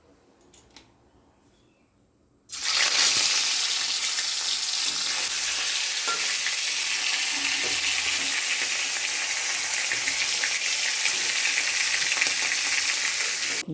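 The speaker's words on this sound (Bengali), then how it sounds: "ফোড়নে গোটা জিরে আর কিছুই না দিয়ে দিলাম গোটা জিরে" Whole cumin seeds hit hot oil for tempering and burst into a loud, close sizzle that holds steady for many seconds after a few faint clicks and a short quiet spell.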